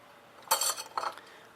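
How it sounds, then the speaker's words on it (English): A spoon stirring soup in a metal pot, two brief scraping clinks close together. The sound is close and fairly quiet over a low background hum. "Stir it around a little bit."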